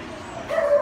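Dogs on a yacht arriving from the Bahamas at West Palm Beach, a brief bark or yip heard faintly at a distance over low background noise.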